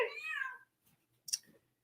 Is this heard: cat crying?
yes